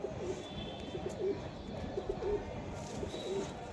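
A male pigeon of a local high-flying breed coos in soft, low repeated phrases at a steady rhythm, close by against faint background hiss.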